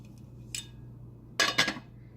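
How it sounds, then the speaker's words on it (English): A lid is set onto a cooking pot in a kitchen: one light clink, then a pair of louder ringing metallic clatters as it settles, close by and otherwise quiet. "And then I'm just gonna put the lid on that."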